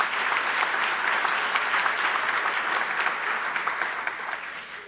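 Audience applause at a university general faculty meeting honoring newly introduced faculty, a dense, steady wash of many hands clapping that holds evenly throughout and tapers slightly at the end.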